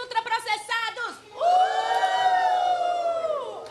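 Schoolchildren chant rhythmically in a protest against ultra-processed food, then burst into a long, loud collective yell and booing that holds steady, close and crowded.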